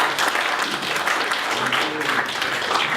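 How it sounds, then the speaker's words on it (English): An audience at a science talk in Trinidad and Tobago applauds a presenter, with a dense, steady round of clapping from many hands, fairly close and sustained throughout. "We'll give her another round of applause for that."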